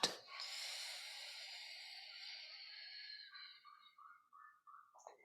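Slow, steady breathing during a deep stretch class, one long airy exhale trailing off into a few short softer breaths, close and fairly quiet with no talking.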